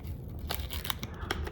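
A foil packet of mango and orange caffeine energy strips is peeled open by hand, producing a few close crinkling and tearing rasps in short bursts.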